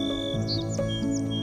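Birds call in the Doñana wetlands, with several bright chirps and short whistling tweets layered over a steady background of insect-like trilling.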